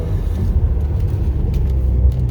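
A SAAB 9-3 cruises uphill with its engine and road noise making a steady low rumble from inside the cabin, with no braking and no talk.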